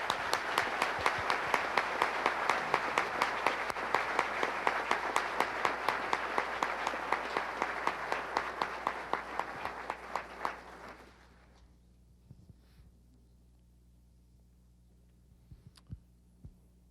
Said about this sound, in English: A round of applause for the launch base team.